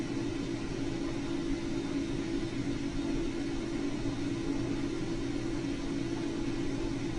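The ALVINN autonomous research vehicle drives along with a steady, low engine rumble and broadband road noise, constant and unbroken throughout.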